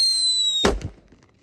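A single King Thunder jumbo firecracker goes off with one sharp, loud bang after a faint high whine, followed by a short crackling decay and then near silence.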